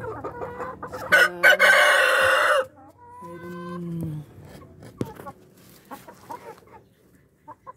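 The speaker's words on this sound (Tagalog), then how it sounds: "Ayan yung native chicken natin." Native chickens on a farm: a loud rooster crow up close, followed by softer clucking and scattered calls, with a person talking quietly between them.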